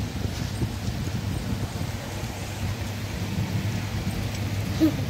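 Heavy rain pours steadily and close by, with low thunder rumbling beneath it throughout and a brief louder crack near the end, no voices present.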